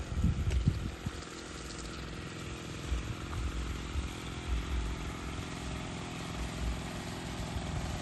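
A motorcycle engine drones nearby outdoors, a steady mid-level rumble running through the whole stretch, with a louder burst near the start.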